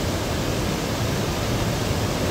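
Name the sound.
water falling over a lake spillway and weir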